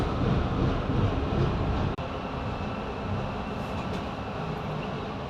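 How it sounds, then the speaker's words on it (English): A driverless electric metro train rumbles steadily along the rails with a constant broadband roar, a brief sharp click partway through, and no voices. "This is electric train, no drivers."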